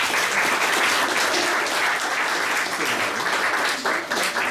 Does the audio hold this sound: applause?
yes